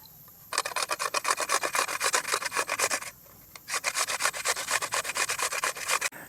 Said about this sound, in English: First, we need a big cucumber and we should grate it into the bowl.